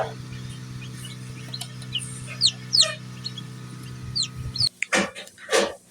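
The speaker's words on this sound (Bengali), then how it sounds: "ফার্মি মুরগির বাচ্চা এই যে ফুটতে শুরু করছে।" Newly hatching farm chicks in a handmade incubator give repeated high, thin peeps and cheeps over a steady low machine hum, growing louder and busier toward the end.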